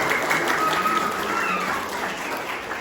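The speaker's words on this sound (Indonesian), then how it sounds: "Tepuk tangan dulu." Applause from attendees at a farewell ceremony for teacher trainees, a moderate, fairly even patter of clapping that tapers slightly toward the end.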